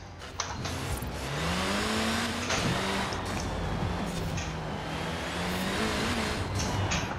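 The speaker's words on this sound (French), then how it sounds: "vous entendez ce turbo là souffler?" Turbocharged car in Forza Horizon 4 racing through Edinburgh, engine droning steadily with a rising whine and a turbo whoosh as the throttle lifts and the car brakes, loud and continuous.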